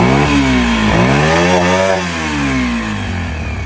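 A Beta RR 125 4T four-stroke motorcycle engine runs close by, revving up and falling back, then holding a steady idle, loud and alone.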